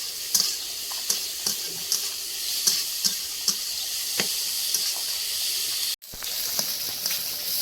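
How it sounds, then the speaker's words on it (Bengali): A spice paste with ginger paste fries in a kadai, giving a loud, steady sizzle close by, broken by regular stirring scrapes and taps. "দিয়ে এখন ভালো করে মশলাটা এখন ভেজে নেব।"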